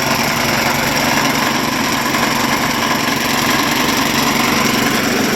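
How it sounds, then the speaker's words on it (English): A homemade lawnmower-engine generator drones steadily and loudly throughout, a continuous buzzing motor hum with no pauses. "I got my lawnmower generator out that I built."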